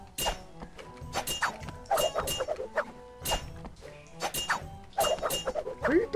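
Dagger attacks in the pirate video game Pirates Online land as a quick series of sharp thunks, clinks and swishes, irregularly spaced and fairly close, with no talking.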